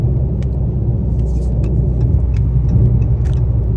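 A Dodge widebody Scat Pack's engine rumbles deep and steady from inside the car while driving, a loud low drone with road noise and a few faint clicks above it.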